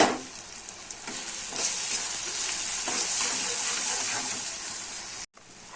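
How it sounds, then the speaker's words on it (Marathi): Onion, tomato, ginger and garlic sautéing with spices in a pan, making a steady close sizzle with faint stirring and a brief cut near the end. "कांदा, टोमॅटो आणि अद्रक लसूण व्यवस्थित परतून घेतला आहे"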